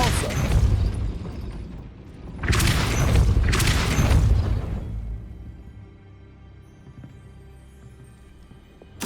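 A Depulso spell cast in Hogwarts Legacy gives deep booming blasts, three heavy bursts in the first half, each with a rumbling tail, then a long quiet fade with a sharp hit at the very end.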